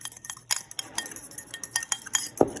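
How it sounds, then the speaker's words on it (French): Small utensil stirring and clinking against a bowl while mixing a sauce with dried basil, a quiet, irregular series of light taps and scrapes up close. "du basilic séché pour faire ma petite sauce que je vais venir donc mélanger"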